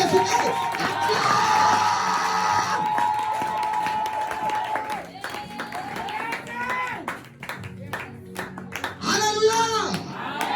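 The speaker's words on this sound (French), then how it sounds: "Acclame très fort Jésus." Church congregation at a seminary session cheering and clapping for Jesus, a loud dense crowd roar with applause and shouts, then voices and music-like sung tones rising toward the end.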